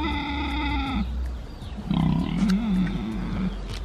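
A very large, unhappy pig lets out low, grunting roars, loud and close, with a steady rumbling hum in the background, in Laos's 4000 Islands.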